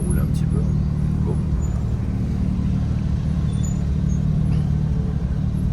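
A car runs at speed around the Nevers Magny-Cours circuit during a track day, a continuous loud engine and road roar heard from inside, with people talking over it.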